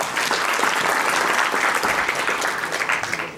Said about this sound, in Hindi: तालियों से इसका इस्तकबाल करें।